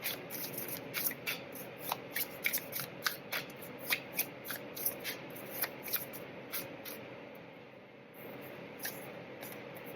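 A soft, steady run of tarot cards being shuffled and riffled to draw a final card, with light rhythmic flicks repeating about twice a second over faint room hiss.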